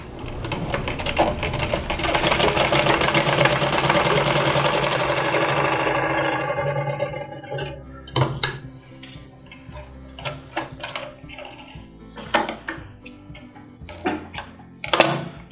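A domestic sewing machine fitted with a size 14 needle and thin thread runs steadily and loudly for several seconds, then stops, leaving scattered mechanical clicks and handling knocks.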